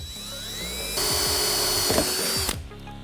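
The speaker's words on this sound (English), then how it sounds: "We're going to start with a pilot hole." A power drill whirs up and bores a pilot hole into a bare steel radiator opening cover panel on a 1965 Ford Mustang, its whine steady and rising for a couple of seconds before it cuts off abruptly.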